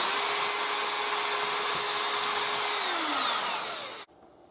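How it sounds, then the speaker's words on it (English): A power drill whines loudly and steadily as it drills into a valve stem, its pitch sliding down as it winds to a stop, leaving faint background noise. "You then drill a hole into the stem."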